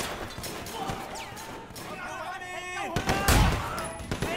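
Bursts of gunfire ring out in the open-world action game Sleeping Dogs, rapid cracking shots with heavy impacts and a loud crash near the end, mixed with game voices and other effects.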